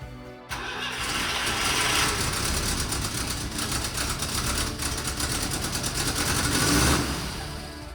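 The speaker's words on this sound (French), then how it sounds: "Et là, après tout ce temps, enfin elle démarre." A Citroën GSA engine, previously dead, cranks and fires into a steady, loud idle that runs continuously close to the microphone, with a slightly uneven, rough mechanical churn throughout.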